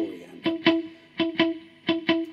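Electric guitar played through effects in a steady sixteenth-note pattern of short plucked notes in pairs, clean and close, alone.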